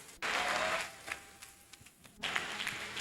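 A church congregation applauds in a broad burst of clapping that starts abruptly, fades partway, then swells again near the end, fairly distant and without talk.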